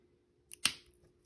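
A single crisp snip of wire cutters trimming wire for a wire-wrapped cabochon pendant, preceded by a faint tick, close and quiet against a silent background.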